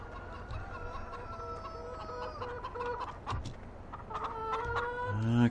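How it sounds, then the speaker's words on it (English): Chickens cluck in a barn in the Farming Simulator 17 video game, a scattered run of soft, repeated clucks and short calls over a low steady background hum, growing a little louder toward the end. "Okay, try not to step on any chickens."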